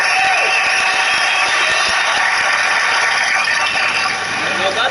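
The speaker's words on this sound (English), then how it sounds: "A round of applause for his courage." Dense crowd applause and cheering in the video game Yakuza 0, steady and loud throughout, with a few whoops rising above the clapping.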